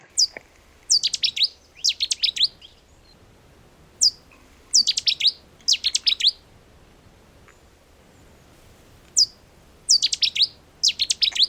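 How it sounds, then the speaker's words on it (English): A Cetti's warbler sings loud, explosive bursts of rapid high notes, each phrase a couple of seconds long and repeated after short pauses, close and clear over quiet background with no talk. "There we go, Chetty's warbler, quite a powerful little bird."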